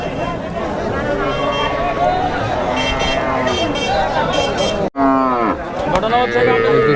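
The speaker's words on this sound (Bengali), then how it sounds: "খালি দুধের গাই দেখেন এই যে ছোট বাছুর দুধের গাই আছে এখানে" Cattle low and moo repeatedly amid a busy, noisy crowd at an outdoor cattle market, with people talking close by throughout.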